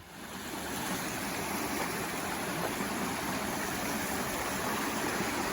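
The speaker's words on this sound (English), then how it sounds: "It's right by this waterfall by the creek." A waterfall and creek in the Great Smoky Mountains rush with a steady, dense broadband roar, loud and continuous throughout, with no voices or other sounds breaking through.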